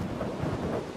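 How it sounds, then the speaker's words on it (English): Rain falls steadily with a low thunder rumble in the Minecraft Tekkit video game, a dense, even wash of sound with no voices. "It's raining outside,"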